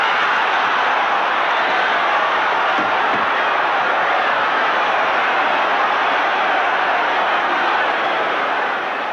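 A political convention crowd erupts in a sustained roar of cheering and shouting right after the nominations are declared closed, loud and continuous with no break throughout.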